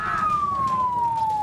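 Fire truck siren at a house fire, a single loud close wail gliding steadily downward in pitch over a low rumble of traffic and engine noise.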